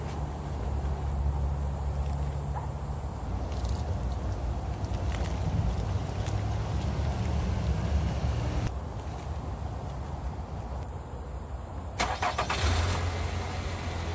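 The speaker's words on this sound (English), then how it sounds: "I started the engine" A car engine cranks and catches, then settles into a steady low idle, moderately close, with a constant hiss over it and no voices.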